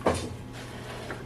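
An old drawer in a machine-tool restoration workshop scrapes open with one sharp clunk at the start, followed by a faint rattle, close by against a steady low shop hum.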